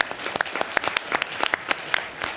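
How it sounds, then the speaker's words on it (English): Applause at a city council meeting for a girls' team, a moderate patter of clapping from a small audience in a hall, scattered and uneven for a couple of seconds. "give them a round of applause"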